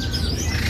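A Thai crested bulbul (jambul Thailand), a mature singing cage bird at a market kiosk, gives a continuous run of loud, close squawking calls with a thin high whistle line.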